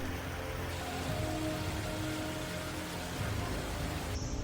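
Heavy unseasonal May rain falling in Delhi, a dense steady roar of rainfall on surfaces, loud and continuous without pause, cutting off abruptly at the end.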